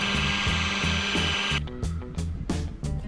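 A power polisher whirs against a van's metal body panel, a steady motor drone that dips and surges in short pulses as it works each section.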